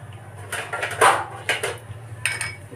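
A spoon scrapes and knocks against a pan while fennel seeds, salt and spices for mango chutney are stirred, several close metallic clatters in an uneven rhythm, with no talking.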